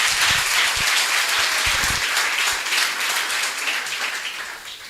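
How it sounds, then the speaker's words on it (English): Audience applause at an outdoor community bench unveiling in Cape Flats, South Africa: dense, lively clapping from a crowd, loud at first and tapering slightly toward the end. "Please give her a round of applause."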